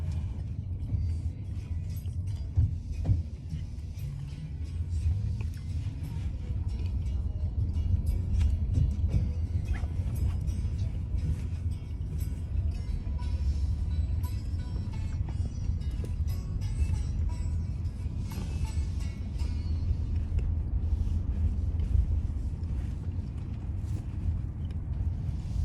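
A Tesla car drives through the Las Vegas Loop tunnel, giving a steady low rumble of road and cabin noise with faint clicks and no talk.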